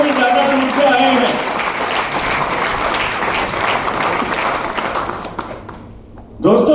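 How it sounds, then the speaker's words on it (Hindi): An audience at a motivational seminar in Agra claps loudly and steadily for several seconds, a dense wash of hands that fades toward the end while a voice is heard over it near the start. "एक बार जोरदार ताली बजा दीजिए।"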